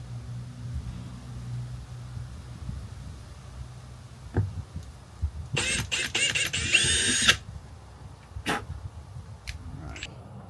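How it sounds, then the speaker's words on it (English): A power drill bores the first hole in a Toyota 4Runner for a spoiler mount, a loud whirring burst of a couple of seconds that rises over a low background hum and stray clunks. "So we got the first hole drilled, it's ready to go."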